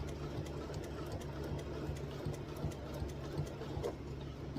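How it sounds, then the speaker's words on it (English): Sewing machine stitching an ice cream churn quilt block, a steady close mechanical whir with rapid needle ticking running continuously and evenly throughout, with no voices. "I'm going to sew right on the outside of that line."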